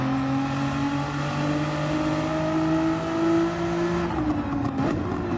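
A race car engine revs hard under throttle in a sim racing game, holding a steady, loud, rising whine before the pitch drops sharply near the end.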